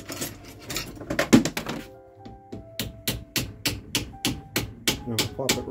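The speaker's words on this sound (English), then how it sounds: "I'm going to take my hammer." A hammer taps a glued wooden dowel into a hole in a steady series of sharp taps, about two per second, close up, with a brief voice early on.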